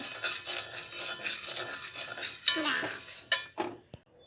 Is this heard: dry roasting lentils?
yes